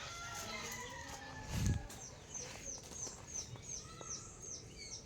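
Chickens outdoors in the dark early morning, with a repeating series of short clucks and calls at moderate distance over steady rural background noise and a brief low thump.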